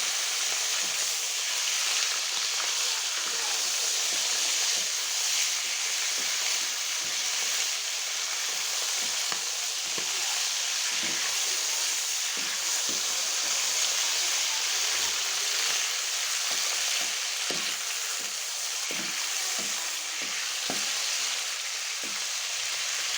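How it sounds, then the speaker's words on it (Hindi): Chicken pieces and liver fry in a masala with local garlic, giving a loud, steady sizzle that runs the whole time with scattered pops and crackles and no talk. "अब अपना चिकन और कलेजी डाल देंगे इसमें"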